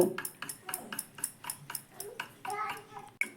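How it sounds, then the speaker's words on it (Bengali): Egg being whisked into a rice batter in a bowl, giving a quick run of light clinks and scrapes against the bowl in a steady rhythm, close and moderately loud. "আবারও খুব ভালো করে এই চালের ব্যাটারের সঙ্গে ডিমটা মিশিয়ে নেব।"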